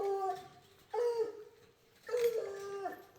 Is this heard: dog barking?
yes